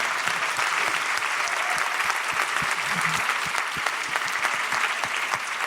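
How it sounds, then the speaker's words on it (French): Dense, steady audience applause fills the room at the close of a talk on sibling rivalry and complicity, many hands clapping continuously at close range with no voices over it. "Est-ce qu'on peut l'applaudir bien fort s'il vous plaît?"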